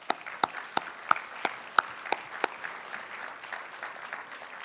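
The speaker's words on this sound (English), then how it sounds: "I'd like to give the village a round of applause" A small audience at a village art wall unveiling at a switching station gives a brief round of applause: about eight sharp, separate handclaps in the first few seconds, then only faint room noise.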